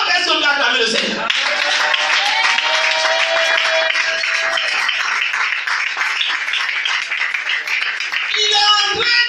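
A church congregation applauds loudly and steadily for several seconds, dense clapping mixed with cheers and voices, ending with a voice rising over the fading applause.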